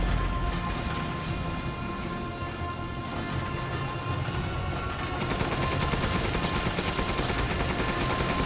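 Sustained gunfire in Resident Evil Village, a loud, steady barrage of rapid shots that turns into a sharper, faster rattling burst about halfway through, with no speech over it.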